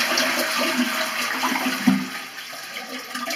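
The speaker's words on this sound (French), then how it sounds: "Vous chassez l'eau du réservoir." A toilet cistern is flushed, its tank emptying during a seal replacement, giving a steady rushing drain of water that stays moderately loud for the whole stretch with no talk over it.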